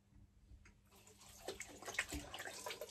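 Water runs from a tap while a synthetic shave brush is rinsed under it, a close, steady splashing that builds after a quiet start, with no talk.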